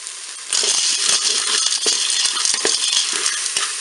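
Dry fusilli pasta poured into a Cookeo pressure-cooker pot: a sudden rattling cascade of hard pieces clattering against the pot, loud and close, continuing for several seconds.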